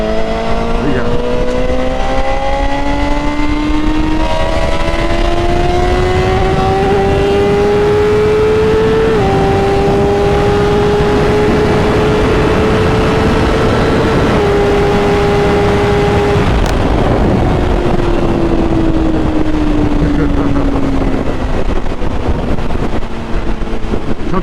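Sport motorcycles, a BMW S1000RR and a Honda CBR1000RR, accelerate hard along a highway, loud close engine whine climbing in pitch through the gears, with brief dips at shifts, all under heavy wind rush.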